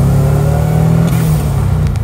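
A boosted car engine fitted with a cheap eBay blow-off valve revs loud and close, its steady drone peaking and then dropping off as the valve releases a brief airy hiss near the end.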